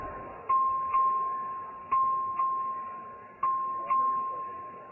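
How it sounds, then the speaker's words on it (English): In a legislative chamber, the clerk's voting bell rings in a repeated pattern of sharp electric dings, pairs spaced about half a second apart, each tone decaying slowly, clear and prominent. "The clerk will ring the bell."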